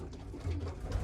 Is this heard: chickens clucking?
no